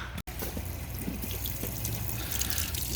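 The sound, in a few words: water overflowing from drum wicking bed fitting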